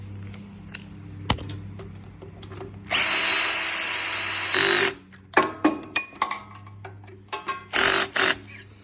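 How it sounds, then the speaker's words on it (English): A power drill whirs in a sustained two-second burst while mounting a new carburetor on a go-kart, then follows with a series of short, sharp trigger pulses nearby. "and then I'm gonna drill it on."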